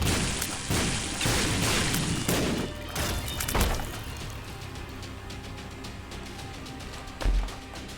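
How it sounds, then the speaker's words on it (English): A troll bomb in The Binding of Isaac: Repentance goes off as a loud, booming blast with crunchy debris, set among several sharp percussive game hits before the noise settles into a quieter hum. "Troll bomb, don't ruin my run."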